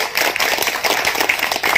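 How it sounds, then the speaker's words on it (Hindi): An audience at a music academy event in Malegaon claps loudly for an honoured guest, a dense, fairly near burst of hand claps with a lively, uneven texture. "एक मर्तबा जोरदार तालियां होनी चाहिए।"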